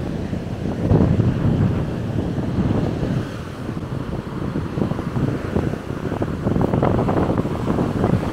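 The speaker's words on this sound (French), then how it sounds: "il y a énormément de vent, je sais pas si vous allez m'entendre" Strong wind at Miami's South Beach buffets the microphone in heavy, roaring gusts, with a low surf-like rush underneath; no voices, just continuous blustery noise.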